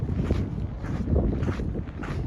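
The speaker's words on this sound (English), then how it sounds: "So it's a little windy" Wind rushes across a mountain hiking trail near Lake Tahoe, a steady, moderately loud low rumble of microphone buffeting with slight gusts and no talking.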